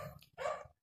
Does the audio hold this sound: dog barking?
yes